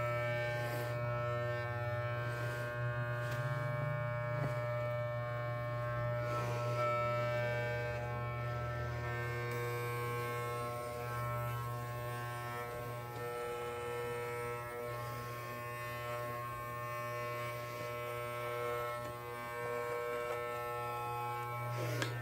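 Electric clippers shave a cat's fur with a steady, close, loud mechanical buzz that holds an even drone throughout, with no talking over it.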